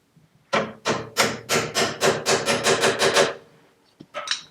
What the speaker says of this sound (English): So let me just tap that gently on.